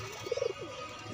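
Pet pigeons give a short, soft coo of a few quick pulses, close and faint against a quiet background.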